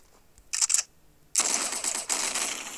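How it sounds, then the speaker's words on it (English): Rapid bursts from a shotgun SMG in the video game Hypper Sandbox: a short crackling volley, a brief pause, then a longer sustained stream of fast shots, loud and close. "Shotgun SMG."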